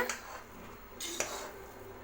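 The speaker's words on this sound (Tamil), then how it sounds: "அடியிலேருந்து லேசாக இந்த மாதிரி கிளறிட்டிங்கன்னா போதும்" A spoon scrapes and clinks against a metal pot a few times as cauliflower biryani is stirred from the bottom, with soft mushy stirring sounds between the clinks.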